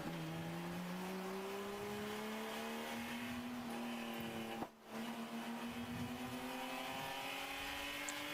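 Race cars on a ChampCar endurance circuit, a steady engine drone rising slowly in pitch as they accelerate, with a brief dip and cut in the middle before the engine note resumes, faint and distant.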